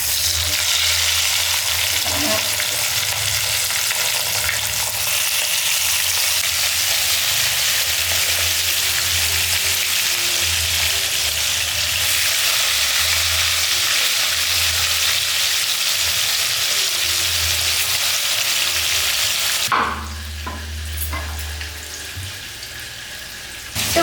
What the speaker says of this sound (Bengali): এবার আমি বাকি মাছগুলো ভেজে রেখে দেব। তো আমি বাকি মাছগুলো দিয়ে দিচ্ছি।